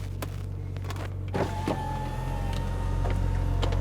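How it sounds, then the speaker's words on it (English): All four power windows of a black 2009 Porsche 911 Turbo lower together, giving a soft, steady electric whine over a low idling hum, with a few light clicks and knocks early on. "All 4 windows are going down."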